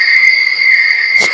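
A loud, continuous shrill chirring of crickets, steady and close, with no other sounds, played as the iPhone 16 night background sound.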